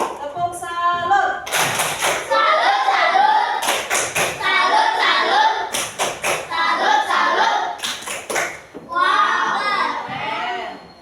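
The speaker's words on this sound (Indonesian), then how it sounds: "kita tepuk salut dulu untuk kelompok 2" A classroom of children performs a salute clap for a group. There are several bursts of rhythmic group clapping and thumps, mixed with children chanting and talking in between.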